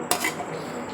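Mutton dum biryani scooped into a serving bowl, a single sharp clink of a metal spoon against the vessel followed by soft scraping and settling sounds, close and fairly quiet.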